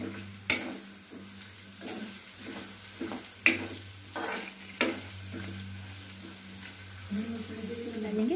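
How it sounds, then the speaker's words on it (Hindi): Sabudana (sago) khichdi stirred with a spoon in a pan, a series of scraping knocks at an uneven pace over a soft sizzle, close and moderately loud. "इसको अच्छे से मिक्स करेंगे।"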